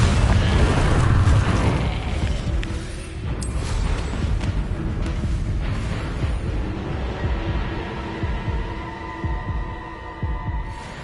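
Confringo spell blast in the Hogwarts Legacy video game, a heavy booming explosion at the start that rolls off into a throbbing low rumble and hum, followed by smaller thuds.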